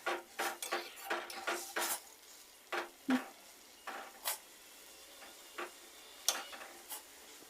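Hilsa fish and elephant foot yam curry stirred in a pot, with a spoon knocking and scraping against the metal in irregular clinks, some sharper than others, over a faint quiet background.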